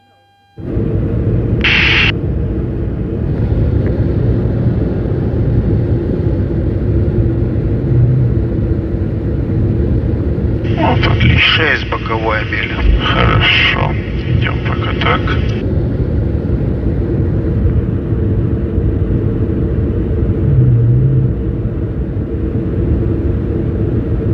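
Inside the cockpit of an An-124 Ruslan cargo aircraft landing with thrust reverse, a loud, steady engine roar and rumble fills the cabin, with crew voices and radio calls over it.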